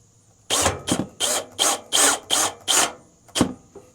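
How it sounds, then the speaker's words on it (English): Power drill driving a screw back into a toothpick-filled hole in an Airstream World Traveler trailer, close and loud in eight short bursts, the last two separated by a brief pause. "we'll go ahead and put the screw back in"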